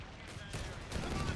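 M191 LMG machine gun bursts in Company of Heroes 3, a rattle of rapid automatic fire in a game battle, fairly quiet, growing denser after a short lull.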